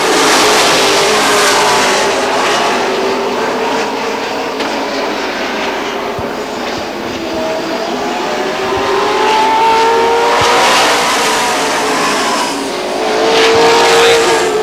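Race cars lapping a short oval at Lee USA Speedway in New Hampshire, a loud continuous engine roar that swells and fades as the pack passes, with no talk.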